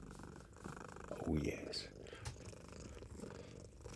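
A cat purrs close to a microphone, a soft continuous rumble running throughout, while someone speaks briefly and gently over it.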